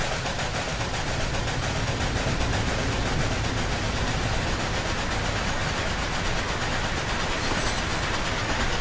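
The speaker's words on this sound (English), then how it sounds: "a third train that's coming by, or fourth train that's coming by, led by a BNSF or BNF45" A BNSF-led freight train rolls past in a train simulator game, giving a dense, continuous rumble with rhythmic clickety-clack from the wheels, loud and close throughout.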